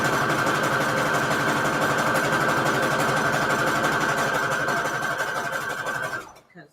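A sewing machine runs a steady, fast stitching seam through a Christmas fabric-scrap junk journal cover, loud and close, humming without pause for about six seconds before stopping abruptly.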